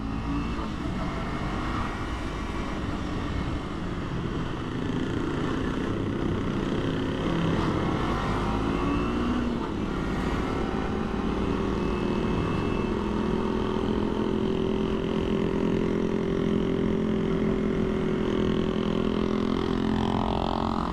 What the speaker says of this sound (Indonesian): Jalanan ini tuh nanjak banget, motor tuh kerasa lemotnya kalau di jalanan ini gitu.